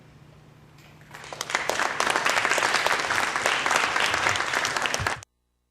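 Audience applause greets a guest lecturer at a talk on open building and architecture; dense, steady clapping swells in after a second and holds for about four seconds before stopping abruptly.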